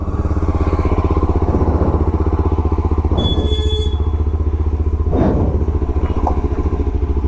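Motorcycle engine idling steadily on a cold start during a service-day warm-up, a loud, close, even thumping putter that runs on alone with a few light clicks and clatters.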